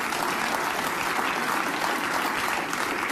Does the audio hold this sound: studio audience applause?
yes